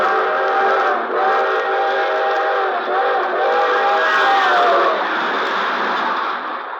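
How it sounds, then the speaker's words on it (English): A long, drawn-out chime whistle of the 20th Century Limited passenger train, a loud sustained multi-tone blast with brief dips in pitch, sounding alone on an old 1943 radio broadcast recording. "the long, drawn-out whistle of the 20th Century Limited as she highballed it through the countryside"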